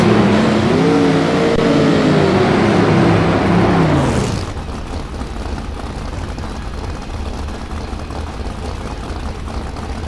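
Two Pro Mod drag race cars roll into the staging box, a loud rumbling engine drone with revs rising and falling before dropping to a lower idle that lingers.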